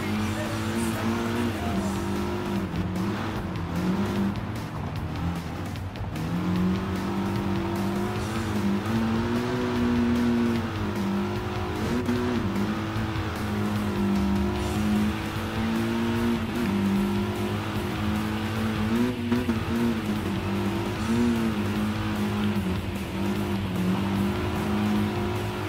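Rally car engine in Gran Turismo Sport during an off-road online lobby race, a steady loud drone with the pitch rising and falling through gear changes and slides across the whole stretch.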